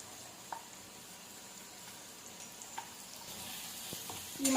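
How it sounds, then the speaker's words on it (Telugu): Masala frying with browned onions in oil for a poultry chicken fry curry makes a soft, continuous sizzle, fairly quiet and close, with a few faint clinks and a louder scrape at the end. "ఇప్పుడు మసాలా వేసేసుకుందాం దీనిలో"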